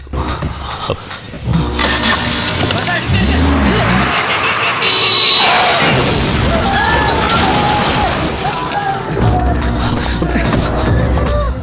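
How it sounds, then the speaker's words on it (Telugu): A car approaches in a movie scene, with a loud engine roar, tyre screeches and rumbling swells building and shifting, mixed with dramatic score-like tones throughout. "కారు వస్తుంది"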